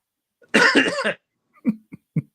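One person gives a harsh, loud cough burst, then three short, lighter coughs or throat-clearing sounds in quick succession, close by against silence.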